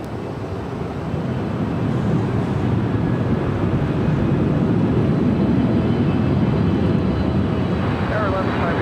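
A Korean Air Boeing 777-300ER from Seoul arrives at LAX as a steady, heavy jet roar that builds slightly and holds over several seconds, with wind buffeting on the microphone.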